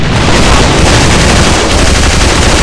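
An MP40 submachine gun fires in the AVA video game, a loud, dense stream of rapid automatic shots running continuously with heavy booming impacts layered throughout.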